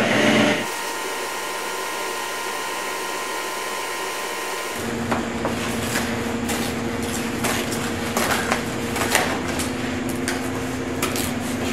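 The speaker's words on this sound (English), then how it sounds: "Routering this thing out." A router whines while cutting out a homemade kiteboard, a loud sustained motor drone that deepens as the bit bites into the board midway.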